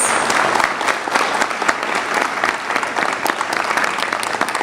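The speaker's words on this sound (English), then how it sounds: "I'd like a warm round of applause again for Jeff Jardine." At the close of a Democratic candidate debate in Tracy, California, an audience gives warm, sustained applause. The clapping is dense and fairly loud, runs for several seconds and has no speech over it.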